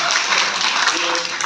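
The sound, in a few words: audience applause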